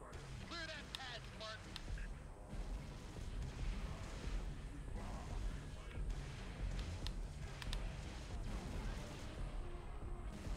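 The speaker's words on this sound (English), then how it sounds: "What was that? Oh, fuel rod cannon." Fuel rod cannon fire in Halo: Reach, heavy booming blasts and explosions spread through a dense, constant battle din, with gunfire crackling throughout.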